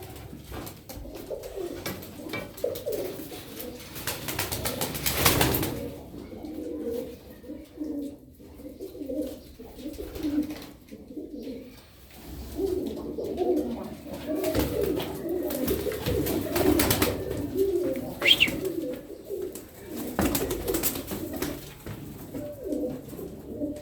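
Pigeons in a loft coo steadily in a dense, overlapping chorus, with soft wingbeats and shuffling breaking through now and then. The cooing stays close and continuous and no one speaks.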